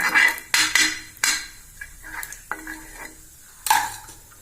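Ghee goes onto a hot dosa griddle with sharp metallic scrapes and taps of a utensil, plus faint sizzling between the clatters, close up and with no talk.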